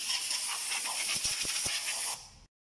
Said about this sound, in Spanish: Aquí vamos a soplar bien la base del filtro para eliminar todas las impurezas.